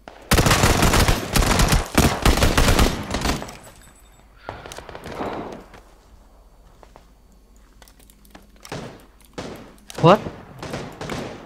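SKS rifle fire in a PUBG match: a rapid string of loud, close shots over the first few seconds, then a few scattered later bursts, with players talking over the action.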